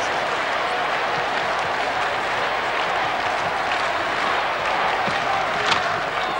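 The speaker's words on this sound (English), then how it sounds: "Crowd chanting Dean Jones." Large cricket crowd at a one-day international cheering and chanting, a dense continuous roar of voices and applause with no breaks.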